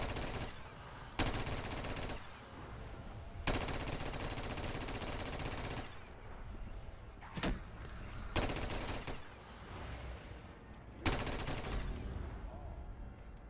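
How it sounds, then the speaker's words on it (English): The SPKM gun fires in a zombies video game on a custom Walking Dead-inspired map, loud sustained automatic bursts in several long strings separated by short pauses, with a voice briefly heard. "the SPKM is the gun"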